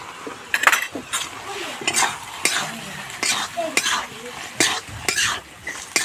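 Pumpkin leaf curry with cumin and spices is stirred in a pan, with a steady rhythm of loud spoon scrapes and clanks against the metal over a low sizzle, close and without speech.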